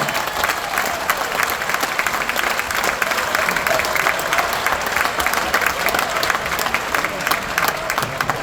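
Sustained applause from a large audience aboard a cruise ship, steady and loud clapping throughout with faint crowd noise underneath.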